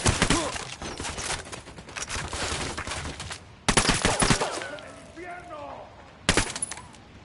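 Loud automatic gunfire in Ghost Recon Wildlands, sharp bursts of shots crackling in close succession, cut off twice by sudden silences before fresh volleys, with faint whistling tones and voices between bursts.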